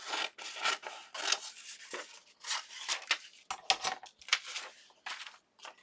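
Rapid, crisp snipping and rasping of scissors cutting through paper, many quick cuts in an uneven rhythm, close and fairly loud.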